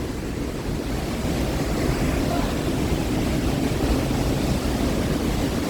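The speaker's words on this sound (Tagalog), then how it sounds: "That's the closer look of Niagara Falls." Niagara Falls heard up close, a dense, continuous roar of rushing, crashing water with a steady wind-like hiss, loud and unbroken throughout, with no talking.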